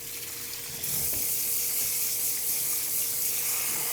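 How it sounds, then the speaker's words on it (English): Glutinous rice washed in a strainer under a running tap, a steady close hiss of flowing water that starts abruptly and continues without pause. "Make sure you wash your rice,"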